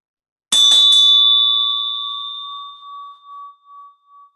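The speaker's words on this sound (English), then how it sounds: "And ring a bell." A single bell struck once to mark a silent minute, giving a bright clear ding that rings on and fades slowly, with a gentle pulsing shimmer as it decays, heard alone in silence.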